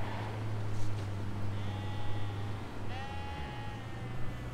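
Sheep in the Forza Horizon racing game bleat twice over a steady low car engine drone, the calls fairly close and distinct against the hum.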